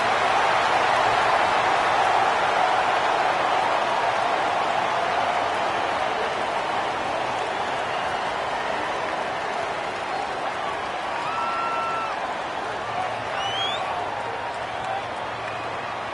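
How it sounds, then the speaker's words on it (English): A packed stadium crowd roars continuously after a touchdown in a college football championship playoff game, a dense sustained wash of cheering that fades slightly over time. "Listen to the crowd."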